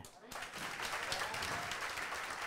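Audience applause at a celebration swells after a short pause into a dense, continuous clapping from a crowd that is moderately close and mixed with some voices.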